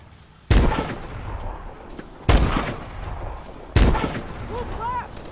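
Gunfire in Call of Duty: Advanced Warfare rings out as three heavy, booming shots spaced about 1.5 seconds apart, each trailing into a rumbling echo, with faint whistling debris after the last one.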